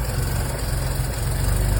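A Chevy 3100 truck engine idling steadily after an oil leak repair, a continuous low rumble with constant vibration and no speech over it.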